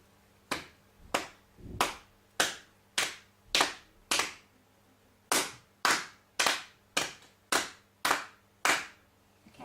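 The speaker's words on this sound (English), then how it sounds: "So first of all, let's clap it together." Hands clap a rhythmic pattern during a beginner piano lesson: crisp, close, separate claps in a steady beat with a short pause midway, then the pattern repeats.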